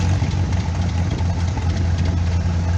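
A 1943 24-horsepower two-cylinder tractor engine runs steadily at a parade at a two-cylinder show, its loud, even low throb filling the whole stretch without talk.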